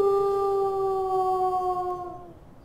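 A single long, clear wolf howl from the video game WolfQuest, holding a steady tone before sliding down and fading out.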